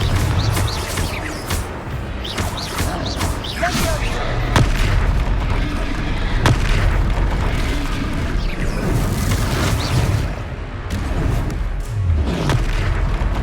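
Confringo blasting spell explosions in the video game Hogwarts Legacy, repeated booming blasts and thuds amid continuous battle noise, with a voice shouting over the fighting.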